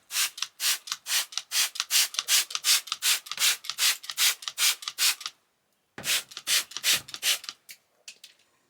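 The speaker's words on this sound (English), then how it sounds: "So I'm just going to treat it with this mold killer." Mold killer is brushed onto the wooden roof of an RV in rapid, rhythmic strokes. The scrubbing is close and steady, stops briefly partway through, then resumes for a few more strokes.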